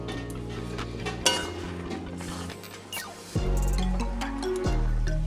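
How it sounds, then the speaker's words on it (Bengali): Flour is stirred with hot water in a pot for dudh puli pitha, giving close wet squishing and scraping with light utensil clinks against the pan over a steady low hum, with no talking. "গরম জল দিয়ে ভালো করে আমি নাড়াচাড়া করে নেব।"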